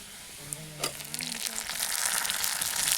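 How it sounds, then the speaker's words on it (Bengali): Chopped tomatoes go into a pan of onions already fried red, outdoors, for chicken kosha: a brief clatter as they drop in, then a rising, steady close sizzle. "এবারে বিলাতি কুচি দিয়ে দিই।"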